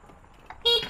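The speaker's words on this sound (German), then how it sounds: "Hupe geht auch wieder, ganz wichtig hier in Abidjan." A short, loud car horn honk cuts in near the end, a sustained blare followed by a brief second toot over low traffic rumble in Abidjan, Ivory Coast.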